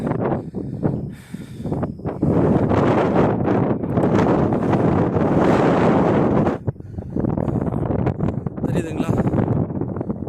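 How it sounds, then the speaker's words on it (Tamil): Strong gusting wind roars and buffets the microphone on a road between Valparai and Thalanar, with mist blowing past and a voice speaking briefly over the rushing air. "ஃபுல்லாக வந்து காற்றடிக்கிற சவுண்டு உங்களுக்கு கேட்கணும்"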